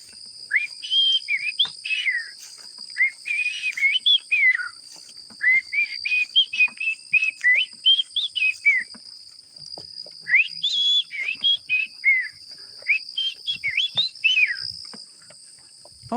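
Someone whistles a tune in repeated short melodic phrases with brief gaps between them, clear and close over a faint steady high hum.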